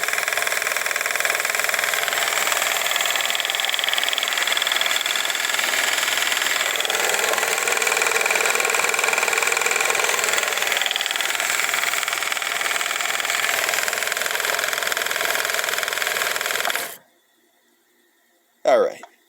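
A 1955 Viking Type 21 sewing machine running fast, giving a loud, steady mechanical whir and rattle that lasts about seventeen seconds before cutting off, followed by a brief voice.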